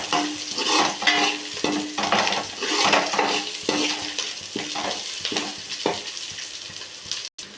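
Onions and green chillies sizzle in a pan while being stirred, with rhythmic scraping strokes over a continuous frying hiss, close and fairly loud.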